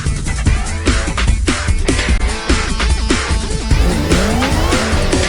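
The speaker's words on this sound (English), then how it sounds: "That's now 650 horsepower getting to the rear tires of this supercharged S197 Mustang" Supercharged 650-horsepower S197 Ford Mustang, a 2006 model fitted with a Centerforce DYAD dual-disc clutch, spinning its rear tires: loud, close engine roar with rising pitch sweeps over steady tire squeal and rhythmic chatter, no talking.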